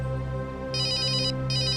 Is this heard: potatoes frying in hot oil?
no